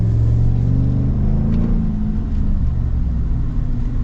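A Chevrolet 6.2-litre V8 in a 2025 pickup revving through its exhaust, a loud, deep burbling roar that swells and falls back to a throbbing idle, heard close.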